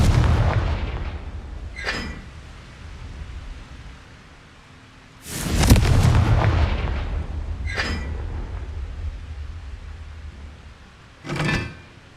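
A Confringo blasting spell explodes in Hogwarts Legacy on PlayStation 5, loud booming bursts with crackling debris. Several blasts are spread across the stretch, the biggest in the middle, followed by sharp shorter cracks.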